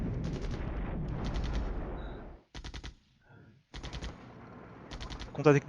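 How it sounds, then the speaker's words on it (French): Artillery neutralisation fire in the Flashpoint Campaigns: Cold War video game: loud clusters of rapid gunfire-like bursts in several groups separated by short quiet gaps, with a brief sharp sound at the end. "Là, c'est mes tirs de neutralisation."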